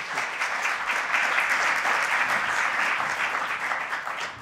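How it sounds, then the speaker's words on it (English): Warm, steady applause from a conference audience at a policy event on ending overfishing, many hands clapping evenly throughout without letup. "Please give them a very warm round of applause."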